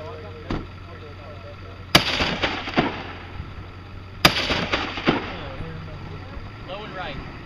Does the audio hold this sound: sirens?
no